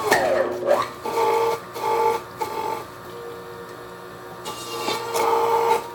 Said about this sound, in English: The motor slowdown that you heard is because we're grinding and pressing at the same time, which takes an awful lot of power.